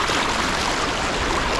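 Athirappilly waterfall and river pouring steadily, a loud, dense, unbroken rush of water filling the whole moment with no voices.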